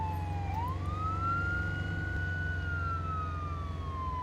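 Police siren in the Arma 3 video game, one rising wail that sweeps up and holds a steady high tone over a constant low engine rumble, loud and close with no talk.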